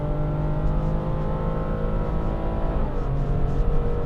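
A Toyota Yaris 1.5 engine revs hard under acceleration, holding a loud, steady droning tone close by with no talk over it.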